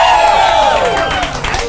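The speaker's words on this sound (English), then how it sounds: "Big round of applause for yourselves." A live audience at a comedy talk show erupts in loud cheering and shouting with clapping, a close, dense burst of crowd noise lasting only a moment.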